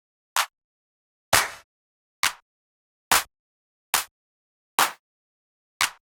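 A classic trap or hip hop clap sample, seven sharp, bright hits spaced about a second apart with short decays and silence between, dry and alone.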